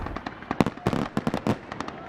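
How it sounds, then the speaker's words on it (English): Fireworks bursting at a summer community festival, Earle Brown Days in Brooklyn Center: a quick run of sharp, loud bangs and crackles in an irregular rhythm, some close and punchy, others overlapping, with faint crowd noise underneath. "And then we will also end the night with fireworks."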